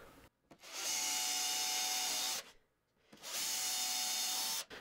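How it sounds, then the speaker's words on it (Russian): Power drill boring through resinous wooden boards for beehive nucleus parts, two long loud steady whining runs separated by a brief pause, heard alone without speech. "Желательно сверло вытаскивать на два раза, потому что доски некоторые смоляные попадают"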